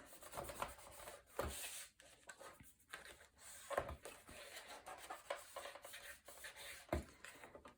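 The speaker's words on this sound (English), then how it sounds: "And I'm going to apply this right to the edge of my page in the center and burnish this." Paper piece rubbed and burnished down onto a Stamperia mini album page, a close, soft scraping rub in short irregular strokes, alone with no talk.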